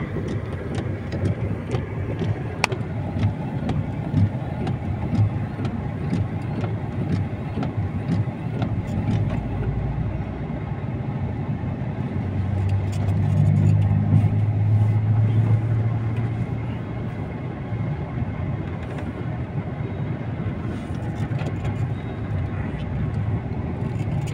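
A car rolls slowly into position for a wheel alignment in a busy shop, its low engine rumble steady under shop noise, swelling briefly as it moves, with faint background voices and clatter.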